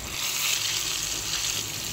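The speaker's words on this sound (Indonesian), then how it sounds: "Jadi gorengan pertama sudah selesai, lanjut goreng untuk ikan yang" Fish deep-frying in hot oil in a home kitchen, a steady, loud, close sizzle and crackle that holds evenly throughout with no talking.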